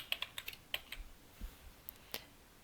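A computer keyboard is tapped to enter a login and password, a close, quiet run of crisp keystrokes in irregular bursts with short pauses between them.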